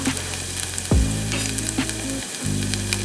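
Garlic and onion, already sweated, sizzling in a pan: a continuous close frying hiss with a few scrapes and brief shifts as the pan is moved, no voices.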